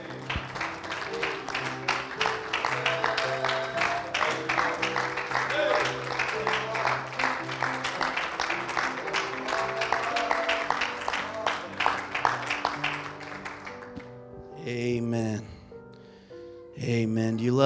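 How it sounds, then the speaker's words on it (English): Church congregation claps along to upbeat gospel music during a service, steady rhythmic clapping under loud singing and instruments, ending with a few seconds of voices. "Let's give the Lord a hand clap tonight."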